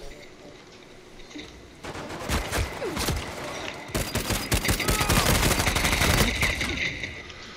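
Uncharted 4 multiplayer firefight with rapid bursts of automatic gunfire growing denser and louder over several seconds, layered shots and impacts overlapping, with a voice talking faintly underneath.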